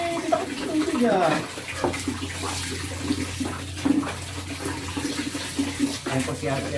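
Water splashes and trickles as a baby is bathed, with irregular sloshing and pouring close by and a steady low hum underneath.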